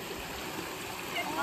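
A warm-water waterfall tumbling over rock gives a constant close rushing hiss, with a voice faintly present beneath the spray.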